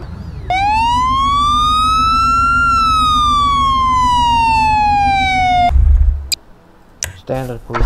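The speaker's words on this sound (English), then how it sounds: "Buffalo cruiser" A Buffalo police cruiser siren in the Garry's Mod video game, a single loud sustained wail rising and slowly falling for about five seconds, cut off abruptly, followed by a thump and brief talk.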